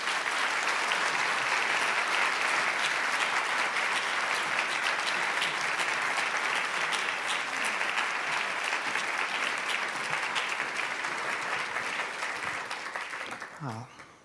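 Sustained applause from a lecture hall audience welcoming a speaker at a law school lecture on race, a dense even roar of clapping lasting about thirteen seconds before fading out.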